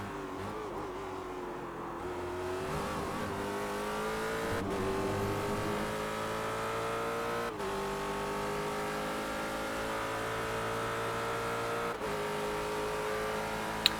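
Ford GT race car engine in the sim-racing game iRacing, droning steadily at high revs through a 14-second stretch of a race, with a few brief dips and shifts in pitch as it changes gear, loud and continuous with no talk.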